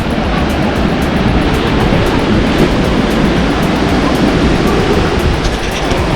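Sea waves at a beach in Bali roar as a dense, constant broadband wash, loud and close, with no voices over it.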